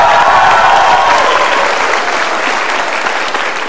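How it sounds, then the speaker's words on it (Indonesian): A studio audience at an Indonesian television talk show claps for a guest, a loud, dense wash of applause that holds steady and tapers slightly toward the end, with no speech over it. "Kita berikan tepuk tangan dulu Mbak Tiwi."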